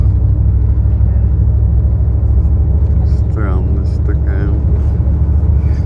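Bus rolling along Pionersky Avenue, heard from inside as a steady loud engine rumble and road drone throughout, while a person speaks briefly partway through.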